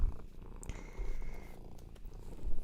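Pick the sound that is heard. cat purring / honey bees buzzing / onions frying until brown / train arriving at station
cat purring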